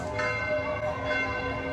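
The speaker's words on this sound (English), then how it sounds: "They coincide with the church bells." Church bells ring out in a dense, overlapping wash of resonant tones, steady and moderately distant, with no break in the clanging.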